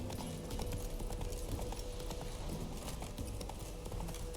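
Roach the horse galloping along a road in The Witcher 3 game, steady rapid clip-clop hoofbeats at moderate level with a busy game soundscape underneath.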